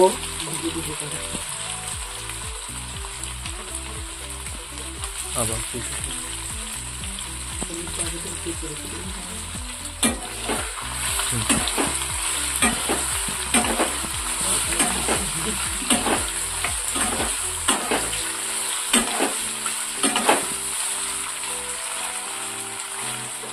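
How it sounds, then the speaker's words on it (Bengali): Paneer cubes frying in hot oil for a vegetarian pointed gourd and paneer dish, with a steady close sizzle, occasional spatters and stirring, and a faint voice at times. "তারপরে তেল গরম হয়েছে, এবার পনিরগুলো দিয়ে দিলাম তেলে।"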